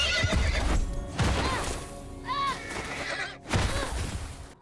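Horse in The Last of Us video game neighing loudly and close, several whinnies in succession with snorts and hoof clip-clops mixed in, over game background sound.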